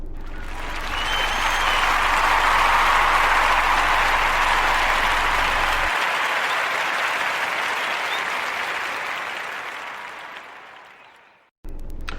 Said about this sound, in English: I got a round of applause for the Jesse Morgan Show.